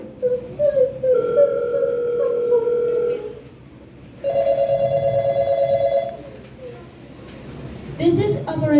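A telephone dials through to the operator during a school stage play, with two stretches of steady tones separated by a pause and a burst of noise at the end.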